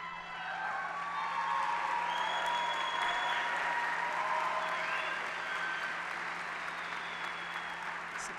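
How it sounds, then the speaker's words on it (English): A large commencement audience at Baldwin Wallace University claps in a sustained, even wash of applause heard from a distance in a big hall, with a few faint whoops mixed in. "We just applaud for anyone, for any reason"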